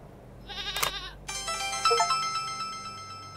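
A goat bleats in the video game Morels: The Hunt 2, a short wavering cry near the start followed by a longer, louder, sustained bleat with rich harmonic tones.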